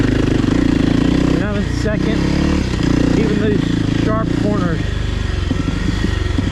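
A 2024 Kawasaki KLX300R dirt bike on a singletrack trail, its engine droning loud and close with rising and falling revs as it rides, while a voice talks over it.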